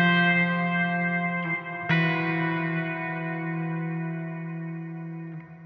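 An instrument played through a Strymon Bigsky reverb pedal on its hall setting: sustained chords ring out into a long, spacious wash, with two fresh attacks part way through and a slow fade.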